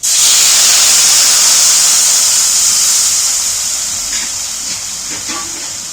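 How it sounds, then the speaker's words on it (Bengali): Water is poured into a hot pan while making shrimp bhapa, releasing a loud, sustained steam hiss that starts abruptly and slowly fades, with a few faint clinks near the end. "এবার জল ঢেলে দিচ্ছি"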